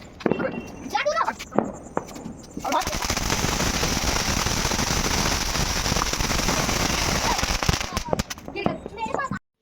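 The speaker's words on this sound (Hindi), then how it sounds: "काफ़ी पटाखे पड़े थे तो बच्चे जा के जला रहे थे" A long chain of firecrackers goes off at a household celebration after Diwali, a dense, loud rapid-fire crackling that runs for several seconds, framed by scattered single bangs and voices at the start and end.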